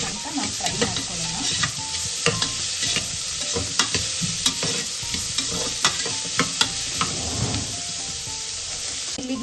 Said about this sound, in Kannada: ಈರುಳ್ಳಿ ಸ್ವಲ್ಪ ಗೋಲ್ಡನ್ ಬ್ರೌನ್ ಆಗೋಷ್ಟು ತನಕ ನಾವು ಫ್ರೈ ಮಾಡ್ಕೊಳ್ಳೋಣ